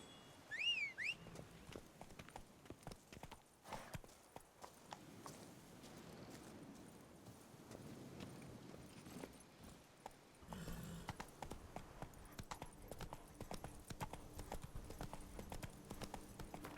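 Horse hooves clip-clopping in a steady walking rhythm in the video game Witcher 3, fairly faint, with scattered clicks and rustles around them.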